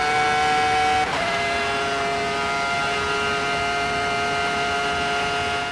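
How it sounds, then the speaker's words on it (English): A high, steady Ferrari F2004 Formula One V10 engine whine in a racing game at Spa's Kemmel Straight, strong sustained harmonics, nearly constant pitch after a brief shift near the start, loud and continuous with no talking. "We had V10 engines, almost the last season of V10s."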